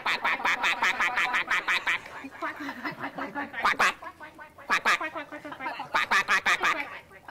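A person's voice imitates a duck's quack again and again in quick bursts of repeated nasal calls, with short pauses between the runs.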